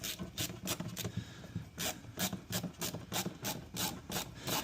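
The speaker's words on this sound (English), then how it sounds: "Just using a screwdriver to put this in." A ratcheting screwdriver drives a screw into a Tesla part, giving a close, steady series of quick rasping clicks in regular bursts, with no talking.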